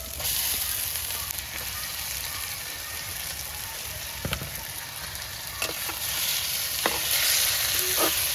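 Chicken drumsticks frying in a pan with ginger garlic paste for a curry, a dense continuous sizzle close by with occasional light clinks and scrapes, no voices.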